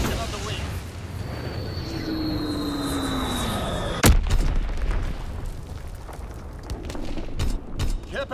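Fritz X guided bomb strikes in Call of Duty WWII, a descending whistle of an incoming bomb ending in one sharp loud blast, followed by scattered rumbling booms and gunfire in a battle scene.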